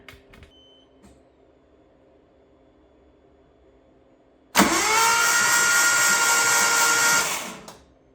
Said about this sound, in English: We are going to crank the engine.